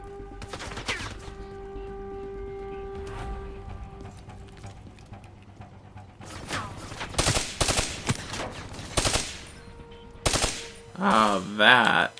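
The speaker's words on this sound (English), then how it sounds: "Oh, that is a turret." Rapid automatic turret fire in the Call of Duty: Black Ops 3 shooter on PlayStation 4 rattles out in loud, dense bursts during the second half, following a quieter stretch of game ambience and electronic tones.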